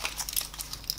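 Cardboard packaging is pulled and crinkled away while unboxing an Emporio Armani Connected smartwatch, giving a quick series of close scratchy crackles and rustles with no talking.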